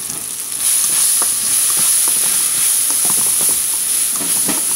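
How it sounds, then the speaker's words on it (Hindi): Turmeric and red chili frying in oil for poha, a steady loud sizzle with faint stirring scrapes and crackles throughout, no voices. "इसको आपने थोड़ा सा फ्राई करना है।"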